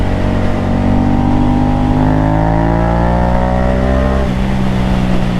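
A 2015 Yamaha FZ07 motorcycle accelerating hard, its engine note climbing steadily through the revs, loud and close with constant wind rush, then a brief dip at a gear change before pulling again.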